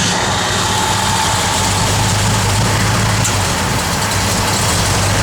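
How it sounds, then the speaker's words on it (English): Engine of a 1954 Ford F100 pickup truck idling loudly and steadily up close after a push-button start, a constant low rumble that never changes pitch. "push the starter button over there, and it starts"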